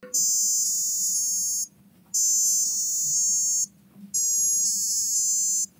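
High electronic tones from a buzzer driven by a Raspberry Pi Pico play a short stepped melody in three bursts separated by brief pauses, over a faint low background hum.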